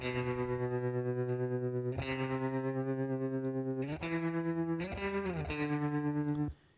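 An electric guitar through the Safari Pedals Twin Panda amp simulator plugin, with a crunchy tone, holds long sustained chords, changing every second or two with a slight vibrato shimmer, then stops.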